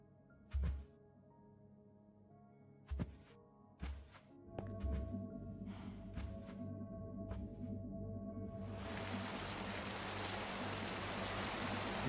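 Rain in the game Minecraft builds into a steady, hissing downpour after a few hollow thunks and soft pulses, growing louder and filling the sound by the end.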